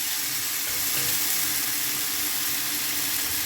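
Thalipeeth, a Maharashtrian flatbread, sizzling on a pan just after being flipped: a continuous, even frying hiss close by, with no voices over it.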